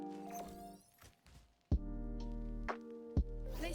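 Killjoy's swarm grenade in Valorant landing with a couple of sharp thunks over an electronic humming tone that cuts in and out.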